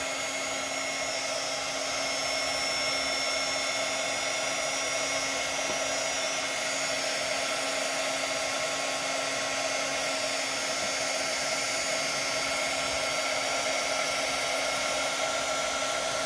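A heat tool blows hot air over blooming ink on a tumbler, giving a loud, constant whirring hiss with a steady hum. It runs unbroken and close the whole time, with no voices.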